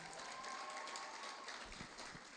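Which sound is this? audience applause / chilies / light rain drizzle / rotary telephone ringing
audience applause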